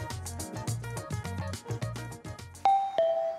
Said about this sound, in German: Ding Dong, Ding Dong, wer steht dort vor der Tür?